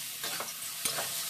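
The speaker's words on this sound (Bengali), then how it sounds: "কাঁচা গন্ধটা না থাকা পর্যন্ত, না চলে যাওয়া পর্যন্ত এইভাবে আমি কষিয়ে নিচ্ছি" Spiced masala with young jackfruit sautéed in a pan, soft repeated scraping stirs over a faint steady sizzle, quiet and close with no talking.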